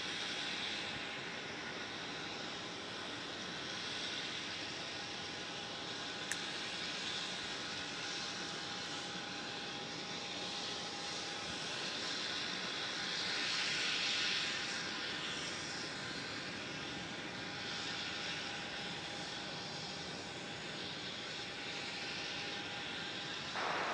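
An airliner takes off from runway 27 at Melbourne Airport, a steady distant jet engine roar that swells slightly midway and holds as a broad continuous rumble.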